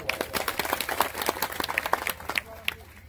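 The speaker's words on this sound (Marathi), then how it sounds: "टाळी तर वाजवा थोडा" An audience at a religious discourse claps in a scattered, uneven way, with individual sharp claps spread across a few seconds, heard at moderate volume over a quiet room.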